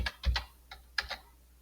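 Keys tapped on a computer keyboard while entering a value into a 3D text settings box in Microsoft Word, a short burst of about five or six close, crisp clicks with brief pauses between them.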